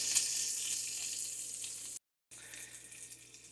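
Pancetta frying in a pan for a pancetta and broccoli pizza, a steady close hiss of sizzling fat with a brief dropout partway through.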